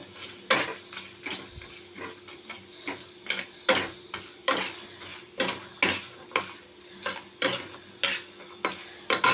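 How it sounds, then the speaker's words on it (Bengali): Sun-dried lentil dumplings (bori) frying in a pan, a soft sizzle under repeated rhythmic scrapes and clinks of a spatula against metal, close and steady, with no talk. "এখন বড়িটা ভেজে নিচ্ছি"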